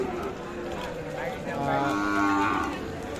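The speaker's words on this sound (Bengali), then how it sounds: "আমবাড়ি হাটে রয়েছি যেখানে শাহিওয়াল বাছুর বিক্রি হচ্ছে" Sahiwal calves at a busy cattle market, one drawn-out low moo swelling in the middle, with market chatter and crowd noise behind it.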